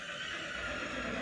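A horse whinnies during a groundwork training session; the short neigh is faint and close, set against a steady background wash of noise, with no talk.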